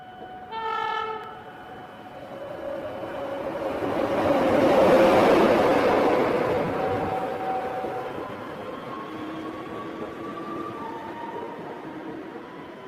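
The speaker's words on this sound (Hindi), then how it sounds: "फिर थोड़ी देर बाद वहाँ से एक ट्रेन गुजरती है।" A cartoon train passes through a station with an opening horn blast and a rising, swelling rumble of rolling wheels that peaks mid-passage and then fades, with no talking.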